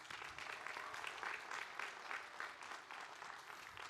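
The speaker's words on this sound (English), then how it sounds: "Let's give Louie another round of applause" Steady applause from a crowd at a college commencement ceremony, a dense sustained patter of clapping at moderate distance, with no voices standing out.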